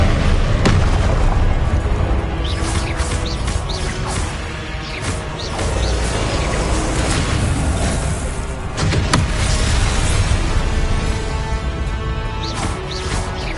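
Confringo blasting spell explosions in a Hogwarts video game, a loud run of booming bursts and sharp pops repeating across the stretch amid busy combat noise.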